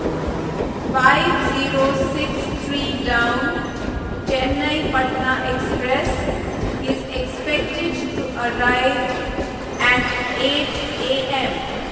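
Train sounds at a railway station: continuous rumble and rolling clatter of rail cars throughout, with horn-like tonal bursts, fairly loud and close, and voices mixed in.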